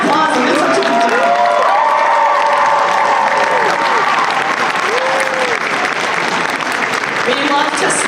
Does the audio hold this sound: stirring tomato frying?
no